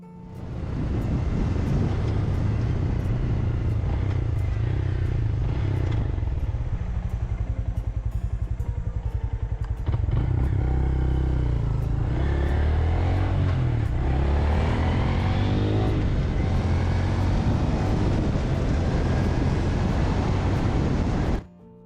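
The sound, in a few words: Honda Grom motorcycle riding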